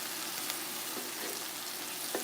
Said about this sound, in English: So now we are sauteing the onions and this delicious, deliciousness.